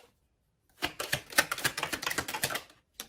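Tarot cards are shuffled in a single quick burst of dense, sharp clicking and flicking lasting about two seconds. The sound is close and crisp, set between stretches of near silence, and one last click trails after it.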